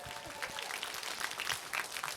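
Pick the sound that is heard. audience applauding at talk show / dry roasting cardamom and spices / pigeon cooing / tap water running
audience applauding at talk show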